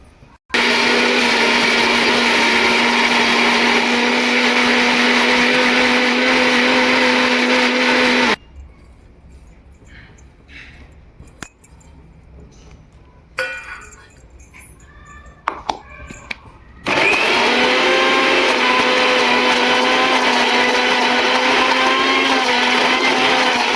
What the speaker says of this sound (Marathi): आता हे सगळं वाटून वाटणाची तयारी रस्सा भाजी वाटण्यासाठी मिक्सरमध्ये वाटून घ्यायचं.